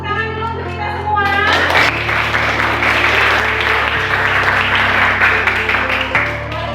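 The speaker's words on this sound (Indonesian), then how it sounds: "Tepuk tangan dulu untuk kita semua." A group receives sustained applause from a classroom audience, many hands clapping steadily and loudly throughout, with faint voices mixed in.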